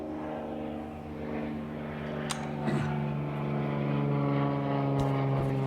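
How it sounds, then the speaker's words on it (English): A low-flying propeller airplane passes overhead above a farm with a flock and guard dog, its droning hum steady and loud throughout, with a couple of brief knocks nearby. "The plane. It's a low-flying one."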